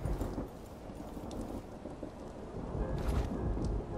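Low rumbling thunder rolls through a stormy scene in the video game Dishonored 2, faint and continuous over a dim background with no talk.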